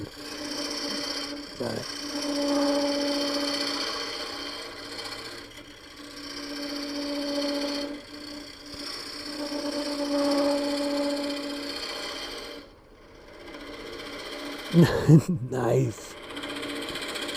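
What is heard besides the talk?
wood lathe turning a coffee scoop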